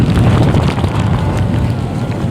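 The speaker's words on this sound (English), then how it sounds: "It's pretty windy" Strong typhoon wind buffets the microphone outdoors while a DJI Mavic Air 2 drone is flown, producing loud, rumbling gusts and roaring noise that surge and roll continuously throughout.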